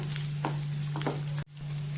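Chopped onion stir-fries in a pan for a mushroom Manchurian, a steady sizzle with a couple of soft stirring scrapes, over a constant hum, briefly cutting out before resuming.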